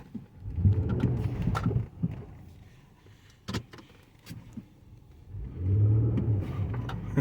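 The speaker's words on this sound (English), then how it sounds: "I want you to see which wheels will be turning once I slam on the gas" A Nissan Murano revs and accelerates hard in snow, engine roaring in two loud surges, the first early and the second near the end, with quieter thumps and whirring between them.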